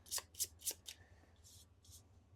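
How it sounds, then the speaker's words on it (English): Cards from the Wingspan board game are shuffled by hand at close range: four quick, crisp riffling bursts, then two softer shuffles after a brief pause, with no talking. "And then we'll shuffle these up."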